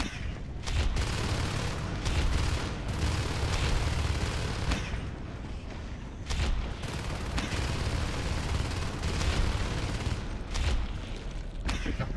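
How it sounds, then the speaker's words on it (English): Rapid gunfire in the video game Natural Selection 2, with loud dense bursts of automatic shots and booms that come in repeated volleys and brief pauses and stay close and intense the whole time. "Oh, they shoot."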